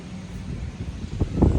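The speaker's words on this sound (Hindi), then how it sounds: "वाह क्या हवा चल रही है।" Strong wind blows ahead of gathering dark storm clouds, a steady low buffeting roar on the microphone that swells with a couple of stronger gusts toward the end.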